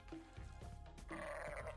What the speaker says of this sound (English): He's making goat noises.